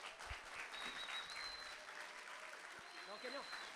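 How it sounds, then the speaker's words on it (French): Congregation applauding during a church celebration service: a faint, steady wash of clapping that holds for the whole stretch, with a voice briefly rising near the end. "Est-ce qu'on peut l'applaudir,"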